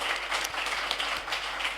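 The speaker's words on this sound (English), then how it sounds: "give them another round of applause" An audience claps together in steady, dense applause at a Q&A event, with no clear voices above the clapping.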